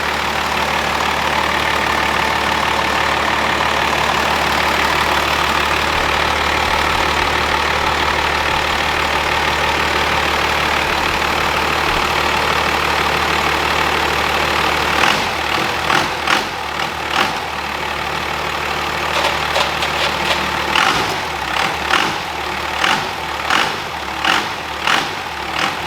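A Cummins diesel engine runs loud and close on a shop floor, droning steadily at first, then pulsing unevenly with rhythmic chugs and clatter toward the end.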